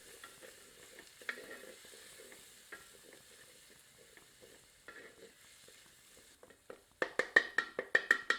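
Garlic and ginger fry gently on low heat for a creamy chicken malai korma, a faint soft sizzle with light scraping, then a run of sharp rhythmic metallic taps near the end.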